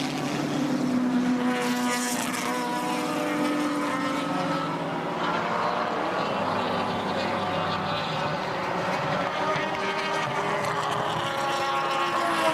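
A twin-rotor Wankel rotary race car engine whirs loudly and continuously at up to 10,000 rpm, its pitch rising and falling as the car passes and accelerates, with a steady roar throughout, at Surfers Paradise Raceway, 1983.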